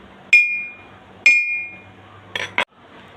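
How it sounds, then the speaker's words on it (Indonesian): A drinking glass filled a quarter with water is struck twice, each tap ringing out clear and sustained, followed by two quicker, duller clinks close by. "gelas yang berisi 1/4 air akan menghasilkan bunyi yang jauh lebih keras dan lebih jelas lagi"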